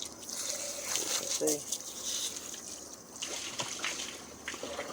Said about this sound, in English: Got a little bit of blood here. Let's wash that off.